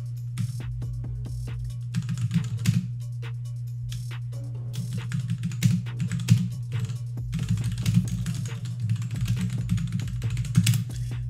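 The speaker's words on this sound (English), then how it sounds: "Here we can type in some input." Someone types on a computer keyboard close to the microphone, with bursts of soft clicking keystrokes separated by short pauses over a steady low electrical hum.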